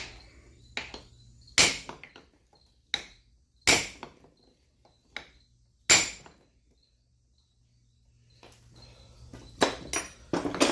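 A small tinner's hammer bumps the pressed-on end of an oil cooler in sharp, separate metal taps, some ringing briefly, with quiet pauses between and a cluster of quicker hits near the end.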